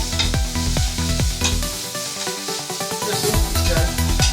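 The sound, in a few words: bitter gourd frying in a pan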